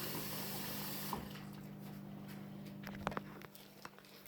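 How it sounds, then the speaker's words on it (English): Running tap water while hands are washed at a sink, a faint steady gush that stops after about a second, followed by quiet drips and small splashes. "let me wash my hands real quick"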